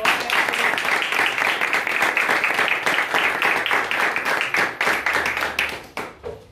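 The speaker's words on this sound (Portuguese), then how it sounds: "Aplausos" A church congregation at a home worship service claps, a loud close burst of many hands with some rhythmic clapping that stays strong before tapering off at the end.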